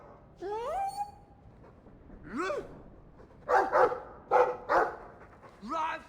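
A dog in the fantasy role-playing game Dragon Age 2 gives a few separate barks and yips, close and clear against quiet game ambience, with a voice speaking briefly.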